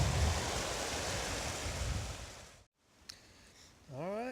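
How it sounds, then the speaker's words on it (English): Falling water from a small waterfall on the Appalachian Trail makes a steady, close rushing hiss for over two seconds before cutting off, followed by quiet, a faint click and a brief tonal voice-like sound at the end. "Nice little waterfall."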